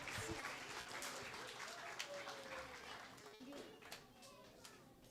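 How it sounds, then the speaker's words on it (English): Audience applause at a school birthday celebration, a broad wash of clapping under a loud mix with children's voices and a voice speaking over it, continuing steadily throughout. "A round of applause, please."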